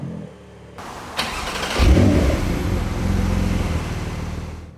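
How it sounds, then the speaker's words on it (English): A new Porsche 911 starts up in Sport Plus mode, a loud crank and catch at about a second in, then a rising bark that settles into a steady, deep idle close by. "So if I start the car in sport plus,"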